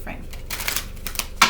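Tarot cards are shuffled by hand in soft papery bursts and riffles, close by, with a faint voice in the background.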